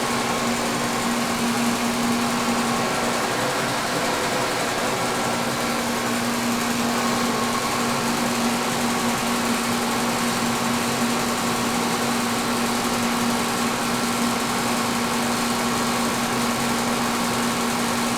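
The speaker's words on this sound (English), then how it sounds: "a nice true running drill bit" A drill bit spins steadily in a drill set up in a workshop, giving a constant, even mechanical whir with a steady hum that stays unchanged and close for the whole stretch.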